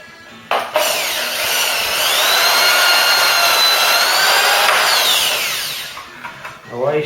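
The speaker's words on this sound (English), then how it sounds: "let's get this bad boy drilled." A power drill boring out rivets on a rusty Ford Cortina MK3 GXL under restoration, one loud, close, continuous high whine lasting several seconds with a slight pitch drift before it winds down.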